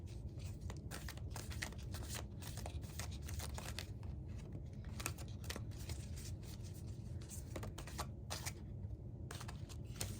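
Oracle cards are drawn from an Energy Oracle deck, giving a steady stream of close paper rustling and shuffling with crisp snaps and flicks throughout and no speech.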